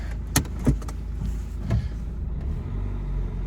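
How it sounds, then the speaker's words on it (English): A Dacia Duster with a six-speed gearbox pulls out onto a lawn: a low, steady engine rumble from close by, with a few sharp knocks and clunks early on. "now we're just gonna pull it out on the lawn"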